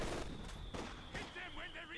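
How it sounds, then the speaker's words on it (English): Mortar fire in Company of Heroes 2: a few thumping artillery blasts rise out of the battle din, fairly distant and faint beneath a talking voice. "Mortar keeps firing away."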